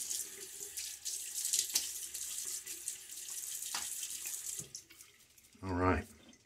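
Tap water runs steadily into a sink for several seconds while a face is wetted before a wet shave, the flow loud and close, ending in a brief louder gush and splash.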